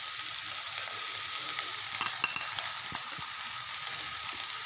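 Shefali flowers frying in a pan, a continuous close sizzle with a few sharp crackles and pops in the middle, no voices.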